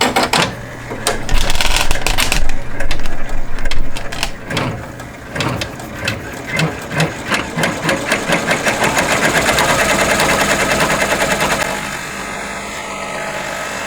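An embroidery machine blanket-stitches a leaf on a calico garden forget-me-not quilt block, with rapid, loud, rhythmic needle clatter that runs in short bursts and then settles into a fast, even patter.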